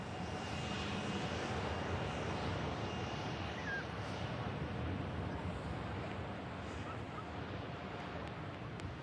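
A heavy Juneyao Airlines long-haul jet taking off from Manchester for Shanghai, fully fuelled, produces a sustained, distant engine roar that stays steady for the whole stretch with no talking over it.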